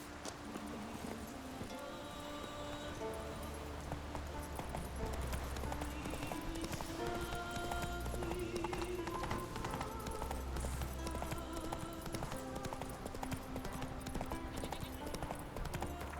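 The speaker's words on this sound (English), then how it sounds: "Roach! The teleporting horse!" Horse hooves clip-clop steadily at a walking to trotting pace in The Witcher 3: Wild Hunt on PS5, set in Skellige, with an occasional whinny and game music underneath.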